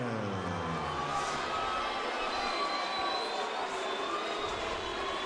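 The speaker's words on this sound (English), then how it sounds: "A mixed reaction from this crowd" A boxing arena crowd's mixed reaction to a close decision in a WBO junior featherweight title fight, a broad steady roar of voices with scattered cheering rather than a unified cheer.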